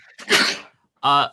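A single quick sneeze bursts out, followed straight away by a short spoken voice.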